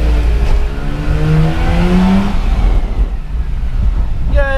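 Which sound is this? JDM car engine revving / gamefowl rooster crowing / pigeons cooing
JDM car engine revving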